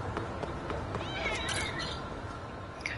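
Cats meowing in the video game Lost Judgment, with soft rising meow calls over a busy low background of game ambience and faint talk.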